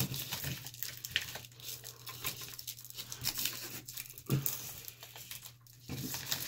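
A paper or woven feed bag being folded lengthwise in thirds, giving close, steady crinkling and crumpling with a few sharper rustles and crunches, with no talking.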